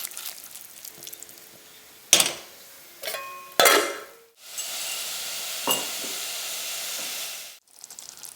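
Lentil tomato sauce with white wine, herbes de Provence, bay leaf and black pepper simmering in a pot, a steady close hissing bubble after several clanks of utensils and pot handling, ending in another sharp clatter.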